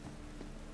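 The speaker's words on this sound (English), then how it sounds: "Rain was coming." Rain falls in The Witcher 3: Wild Hunt, a dense steady patter with a faint low thump near the end and no voices.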